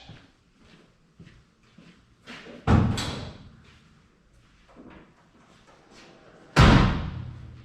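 Doors on a Chevrolet Suburban being shut in a garage during reassembly, two heavy slams with solid thuds, the second the loudest, among softer clunks and handling noises, no voices.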